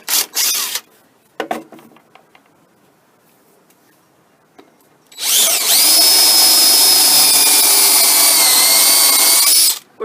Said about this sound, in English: with a countersinking bit on your drill